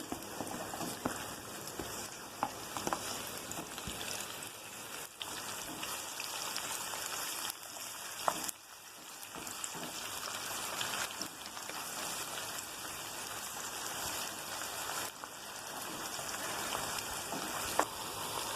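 Onions frying in a pan for a fish dum biryani give a steady, close, dense hiss of sizzling that runs unbroken throughout, with a few faint clicks and no talk.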